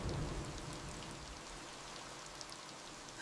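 Steady rain falls outside a door, a soft, even hiss of drops with faint scattered patter throughout, fairly quiet and with no voices.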